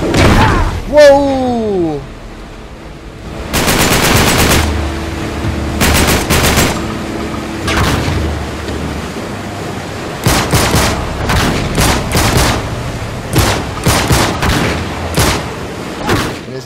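Bursts of enemy gunfire in Uncharted 3 aboard a sinking ship, with loud rapid volleys and single shots cracking repeatedly through the scene, and a short sweeping whoosh near the start.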